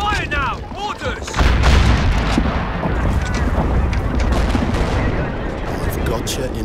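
Video game battle in the RobZ Realism Mod for Men of War Assault Squad 2, with loud, continuous artillery and gunfire rolling together into a dense, booming barrage and voices calling out over it.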